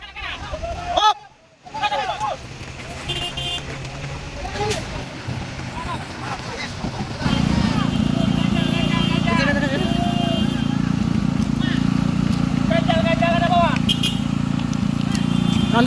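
A heavy truck engine roars and revs hard while stuck on an extremely steep incline at Kedabuhan during a recovery. The engine becomes a loud, sustained drone in the second half, with shouting voices and crowd babble throughout.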